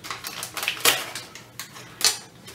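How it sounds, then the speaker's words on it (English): Scissors slice open a small paper envelope in a handful of crisp, close snips and rustles, with short pauses between cuts. "I'm gonna go ahead and cut into this little envelope of stuff."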